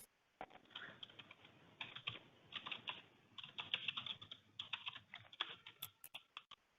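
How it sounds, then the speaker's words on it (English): Rapid, uneven clatter of keys on a computer keyboard, close by, in bursts with short pauses, ending with a few sharper clicks. "I can hear you typing."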